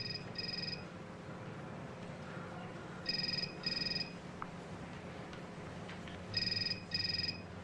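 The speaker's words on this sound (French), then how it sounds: "Est-ce qu'on peut arrêter ce téléphone" A telephone rings in short double bursts, repeating three times at a steady interval, faint against a low room hum with no talking.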